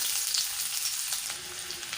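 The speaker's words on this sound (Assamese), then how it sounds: "মই এতিয়া পিঁয়াজখিনি দি দিম" Chopped onions frying in hot oil in a pan, a continuous bright crackling sizzle held at an even level close by, with no one talking.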